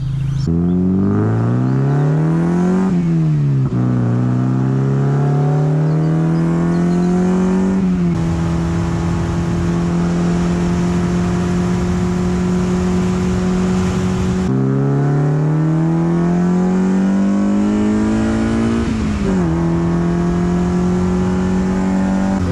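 A Mazda MX5 drift car with a DET3 engine management system revs at full throttle, loud and close, its engine tone climbing through repeated pulls with sudden drops at the gear changes.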